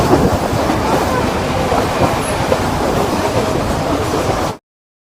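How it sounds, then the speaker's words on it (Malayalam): Ooty toy train pulling into a station, a loud, steady rolling rumble with rail clatter that holds evenly for about four and a half seconds and then cuts off abruptly. "പോകേണ്ട ട്രെയിനാണ് ഇപ്പോൾ വരുന്നത്"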